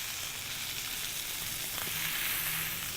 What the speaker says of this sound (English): the more color you get on this, the more of a sear you get